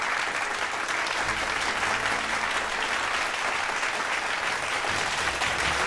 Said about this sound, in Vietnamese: Chúng ta cùng vỗ tay kính mời người sáng lập công ty đầu tư Ký Minh, anh Lục Ký Minh, lên sân khấu nhận giải thưởng